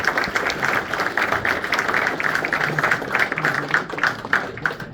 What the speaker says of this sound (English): So if you could give the staff here a round of applause.